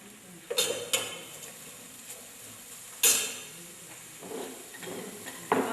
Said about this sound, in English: And I stir. The diced onion is going to give this a natural aroma.